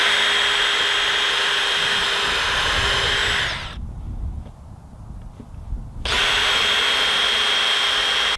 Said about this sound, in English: I like to pre-drill a couple of holes before I do this to